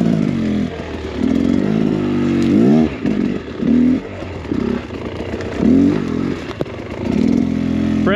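A dirt bike rides a fresh, never-ridden enduro trail on a mountainside, its engine revving and falling in repeated surges, with clatter and scraping from the rough ground throughout.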